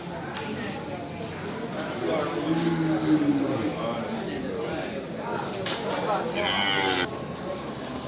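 Banteng cattle moo in a couple of long, low calls amid a noisy crowd of people talking nearby at a livestock market, with more animal sounds scattered through the busy scene.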